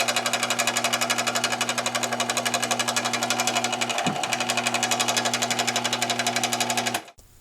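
A Harbor Freight 4x6 belt sander (Central Machinery) runs smoothly after a bearing replacement, a close, steady motor hum with a rapid regular belt rhythm and one brief knock midway before it winds down and stops.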